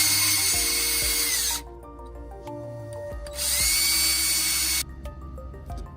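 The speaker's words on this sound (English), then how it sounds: "just so I can get an even tightening when I'm drilling" A power drill drives screws into longboard wheel drive pulleys in two loud, sustained bursts of high whirring, each about one and a half seconds long, separated by a quieter pause carrying faint tool clatter.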